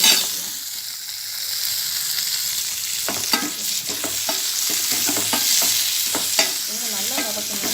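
Chopped ridge gourd sautéing in a pan for chutney, a continuous sizzle broken by repeated scraping and knocking strokes of a spatula stirring it, loud and close.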